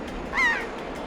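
A single short caw from a bird in The Legend of Zelda: The Wind Waker rings out once, fairly clear over a faint steady game ambience.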